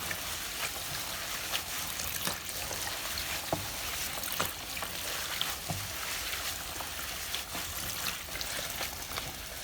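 Freshly picked sweet leaves are washed in water in rural Vietnam, giving a steady, close wash of sloshing and trickling water with occasional soft splashes and knocks throughout, and no voices.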